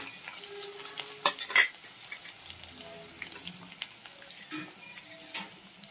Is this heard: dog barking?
no